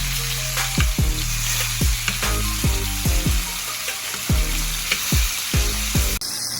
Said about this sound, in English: We take a spoon and we sear the steak like this.